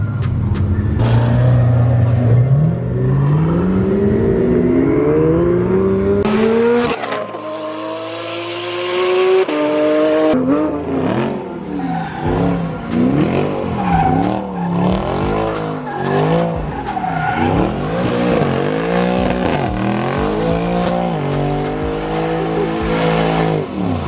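Twin-turbo Porsche GT3 RS revving hard and spinning its tires, loud rising engine wails and repeated rapid rev bursts close by, with tire squeal, no talk.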